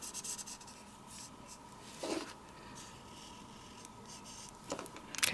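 A bullet-nib marker colors on paper in small strokes, giving faint, soft scratching and rubbing that comes in short bursts, with a couple of slightly louder scrapes.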